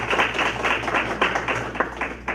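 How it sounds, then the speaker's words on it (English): Applause for an honoree at a Montgomery County school board meeting: a room of hands clapping steadily and fairly close for a couple of seconds, with a low hum underneath. "Let's give Mr. Hamilton a big round of applause"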